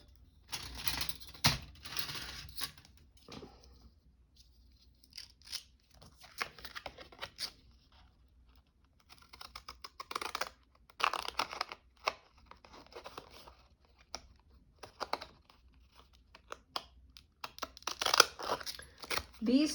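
Scissors cut through two layers of good-quality cardstock in short crisp snips and crunchy bursts, spread irregularly across the stretch with quiet gaps and some talking between cuts.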